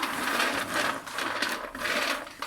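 Roasted hazelnuts are stirred on a metal oven tray, which is then slid back into a home oven. The nuts give a close, steady dry rattling and scraping that swells in uneven bursts, with no voices.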